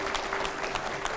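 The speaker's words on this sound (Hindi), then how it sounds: "जोरदार तालियां हो।" Brief burst of audience applause, dense clapping from a crowd at a steady level throughout.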